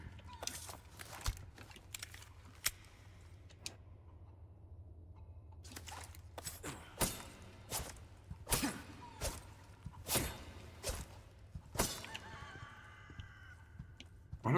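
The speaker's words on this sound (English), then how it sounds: "Why do I hear chickens around?" Poultry-like clucks and honking calls from the Resident Evil 4 Remake video game, a scattered series of sharp bursts over a steady low hum, fairly close, becoming busier toward the end.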